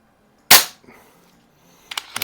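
A single sharp, loud crack from an Umarex Zelos air gun, close by, followed by a quiet pause and then a few small clicks and knocks of handling.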